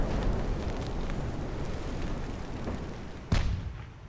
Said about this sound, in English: Let's open up. Big guns at the ready.